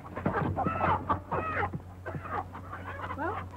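Chickens cluck and squawk close by in a farmyard in a 1934 Western, several birds sounding off in irregular bursts over a low steady hum.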